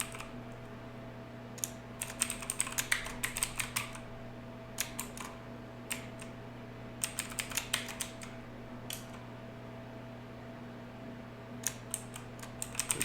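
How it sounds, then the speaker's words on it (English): Typing on a computer keyboard in short irregular bursts of quiet close key clicks, separated by pauses, over a steady low electrical hum. "I'll just type it out because it's not right."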